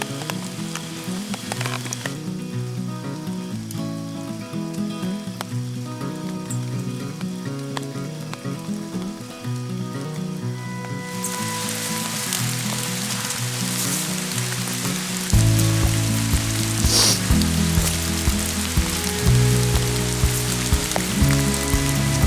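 Steady rain hisses down during a bow hunt for a large buck, a dense, continuous patter that swells louder partway through, with music playing underneath.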